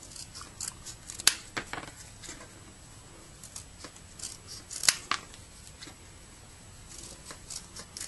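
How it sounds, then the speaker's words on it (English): Scissors snip around a resin photo charm in a series of sharp, close clicks at irregular intervals, two of them noticeably louder, over a faint background hiss. "Cut it out as close as you can."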